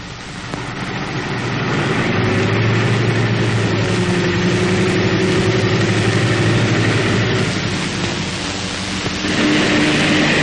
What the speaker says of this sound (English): The tank is able to run on the remaining bogie wheel.